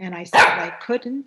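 A pet dog gives a short bark in the middle of a spoken remark, breaking in loudly for a moment while a person keeps talking before and after it.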